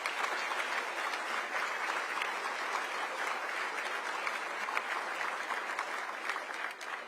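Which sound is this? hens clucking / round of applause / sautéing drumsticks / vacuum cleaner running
round of applause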